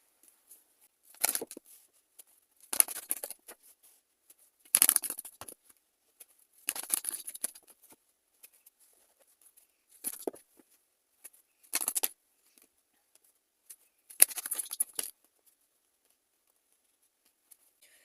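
Tarot cards handled during a Capricorn reading, with about seven separate bursts of crisp papery shuffling and flicking spread over the span, each lasting under a second, close and moderately quiet, with silence between them and no talk.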